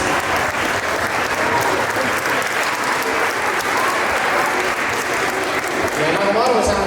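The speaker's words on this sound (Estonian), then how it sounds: "Aplaus." Sustained, loud audience applause fills a school dance competition hall, dense steady clapping from a large crowd with no let-up across the whole stretch.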